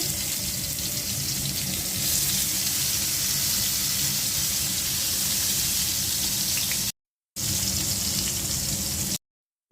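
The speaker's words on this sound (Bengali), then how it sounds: "বেগুনটা ভেজে নিচ্ছি" Eggplant slices frying in a pan of oil give a steady, close sizzle with broad crackling hiss that runs continuously, brightening slightly partway through and cutting out briefly near the end.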